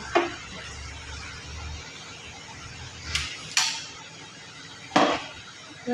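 A spoon stirs chicken curry in a metal pot, with a handful of sharp, isolated clanks and scrapes spaced apart over a quiet, low background.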